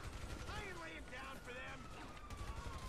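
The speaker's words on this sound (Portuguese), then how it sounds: "E agora é a hora do tiroteio." Gunfire during a shootout in GTA V played in first person, bursts of shots and chaotic in-game action at moderate loudness, with someone talking over it.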